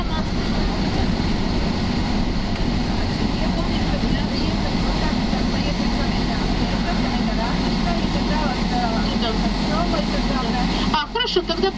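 A car drives through the small town of Darbėnai, Lithuania, with a steady interior road rumble and engine drone throughout while passengers talk over it, ending in a brief rattle.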